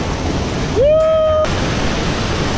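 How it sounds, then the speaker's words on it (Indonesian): A scenic waterfall near a campsite roars as steady broadband rushing water throughout, briefly overlaid by a rising whistle or cheer-like tone in the middle. "Air terjun yang sangat lawa, guys."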